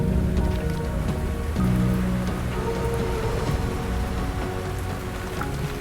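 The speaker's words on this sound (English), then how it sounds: "Can you hear the rain?" Steady rain pattering on a surface, a continuous dense patter at even loudness with no voices.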